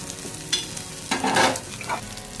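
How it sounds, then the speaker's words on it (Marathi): Bombay duck fish (bombil) roasts in oil in a pan over low gas, giving a close, steady sizzle with bursts of louder crackling as the pieces are stirred. "आपल्याला हे बोंबील थोडंसं भाजून घ्यायचे गॅस थोडासा बारीक ठेवायचा"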